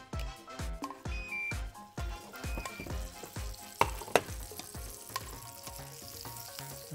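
Kunafa dessert frying in butter in a pan, a steady sizzle with rhythmic clinks and taps of utensils over it, close and fairly quiet.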